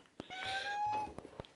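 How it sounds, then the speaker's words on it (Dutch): A cat named Boquito gives one drawn-out, whiny meow, close and clear, framed by soft clicks and light knocks. "Gekke kat."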